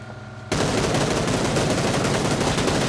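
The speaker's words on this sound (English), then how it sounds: "Take your guns out. Keep it straight. Keep it straight. Shoot." Sustained automatic gunfire in the PUBG: Battlegrounds video game begins abruptly after a quiet moment and continues as a dense, loud, unbroken rattle to the end.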